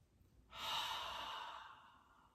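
A long, breathy exhale pushed out as a healing sound during a calm breathing practice, starting abruptly and fading gradually, close and fairly soft.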